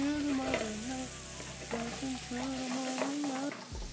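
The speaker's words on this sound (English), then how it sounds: "Now we add the shrimp. And we saute that up a little bit." Shrimp saute in a hot pan with a steady sizzle and occasional stirring clatter, joined by a faint sustained hum, close and without voices.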